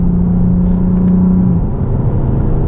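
Lexus GS350 F Sport engine accelerating in sport mode, a steady loud interior rumble with a rising engine tone that fades midway, heard from inside the cabin without talk.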